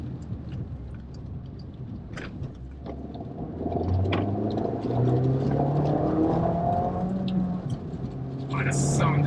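An Abarth F595 hot hatch with a 165 hp engine idles with a low rumble, then revs up and holds a louder, rising engine note, close by, while people talk over it.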